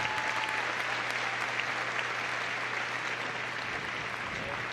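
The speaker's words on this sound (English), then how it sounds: "Please show a warm round of applause." Steady applause from the audience at the Crufts 2014 dog show's Utility group judging, a dense, continuous wash of many hands clapping throughout, with a low steady hum beneath and no talk.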